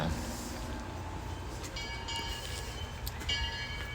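A train moves past on rails in the evening at a Civil War reenactment in Dade City, a steady rumbling roar with faint high squeals and clatter, continuous and fairly near, with no talk.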